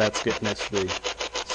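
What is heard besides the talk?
spirit box clicking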